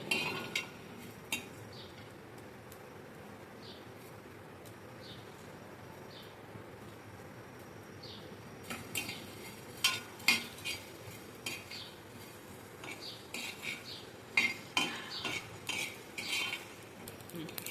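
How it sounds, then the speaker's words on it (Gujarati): Whole coriander seeds and cumin dry-roast in a pan, stirred with a utensil: soft, steady scraping and rustling seeds with scattered metallic clinks and taps that grow busier toward the end, close by with no talking. "હવે આપણે ધાણા શેકીશું. આખા ધાણા શેકીશ, એમાં જીરું અને ધાણા"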